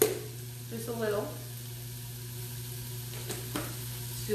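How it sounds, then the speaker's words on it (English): Beef and garlic sizzle in a fry pan, a steady frying hiss with a few brief stirring scrapes and a low background hum, close and moderately loud. "I'm going to put them in the fry pan."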